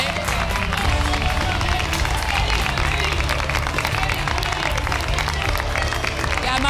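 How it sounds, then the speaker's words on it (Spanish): A television studio audience gives a standing ovation, dense sustained clapping and crowd noise filling the room at a steady loud level. "Aplausos de pie nuevamente."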